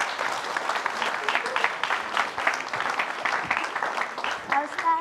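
Audience applause for Dinar Candy on a television talk show set, a steady wash of clapping from a studio crowd that runs throughout, with voices mixed in beneath it.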